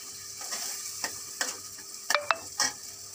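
Cumin, turmeric and chili spice paste frying in a pan over a raised gas flame: a steady sizzle with scraping stirs, plus a few sharp metallic clinks near the end.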